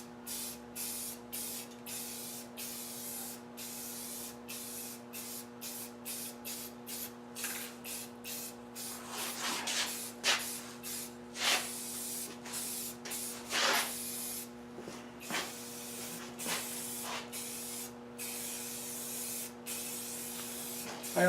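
Cans of 2X spray paint hiss in short and long bursts as mini bike parts are sprayed. The sputtering blasts come in an irregular rhythm over a faint steady hum, with no voices.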